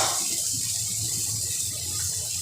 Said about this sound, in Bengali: মশলাটা দেওয়ার পর সামান্য একটু জল দিয়ে দিব